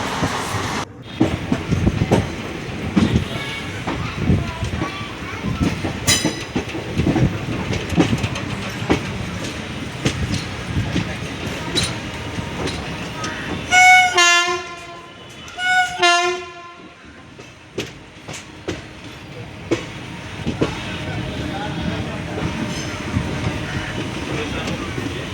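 A passenger train on a pilgrimage journey from Tirupati toward Arunachalam rolls along with a steady rumble and clatter, broken by two loud horn blasts near the middle before the running noise resumes.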